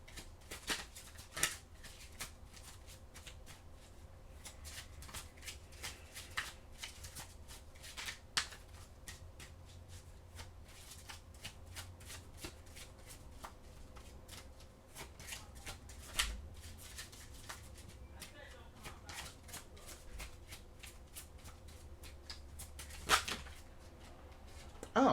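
Oracle cards shuffled by hand at close range, faint soft riffling and flicking taps scattered irregularly over a quiet room background, with no talking.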